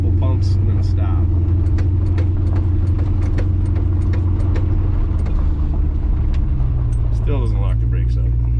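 A 1966 Buick Skylark fitted with Baer disc brakes and master cylinder rolls along, its engine a loud, steady low rumble as the brakes are pumped a couple of times before stopping, with people talking over it.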